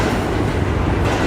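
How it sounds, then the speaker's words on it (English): A New York subway train rumbles beneath 72nd Street near Central Park, a loud, continuous, dense roar of rolling wheels heard up close with no talking. "That sound is of subway."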